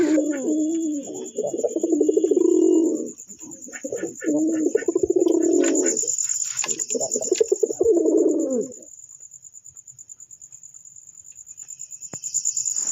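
A pair of black-and-green pigeons cooing close by in throaty, rolling bursts with short pauses between phrases, while a steady high insect whine runs underneath throughout.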